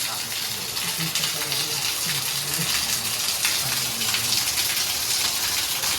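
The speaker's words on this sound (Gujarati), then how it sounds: "બહાર તો વરસાદ આવ્યો જોરદાર" Heavy rain falls outside in a constant, full hiss of water, with people talking indoors over it.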